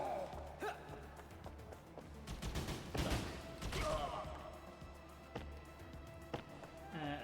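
Gunfire in a video game demo: bursts of shots and rapid fusillades, loudest in the middle stretch, mixed with game effects at moderate level, followed by scattered sparser shots.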